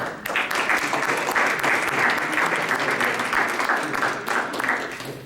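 An audience at a 50th-anniversary celebration of Africology and African American Studies gives another round of applause for the President, full steady clapping from many hands lasting the whole stretch without speech.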